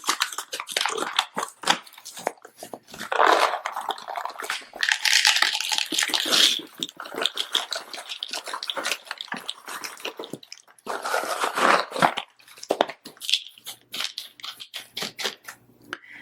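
Loose pumice is poured into a plant pot while repotting a Euphorbia White Ghost. It makes gritty, crunchy rattling and skittering in repeated bursts of pouring, close and crisp, with short quiet gaps between pours and no talking.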